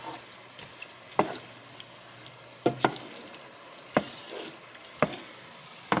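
Meat browning in a pan with diced tomatoes for pasta fagioli, a low steady sizzle broken by several sharp clinks and scrapes of a utensil against the pan at irregular intervals.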